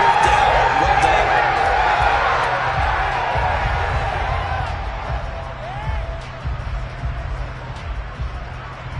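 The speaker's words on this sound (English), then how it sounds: "Some applause for the defense there." Crowd applause and cheering fill a Madden American football video game stadium after a defensive stop, a broad sustained roar that slowly fades, with a commentator talking over it.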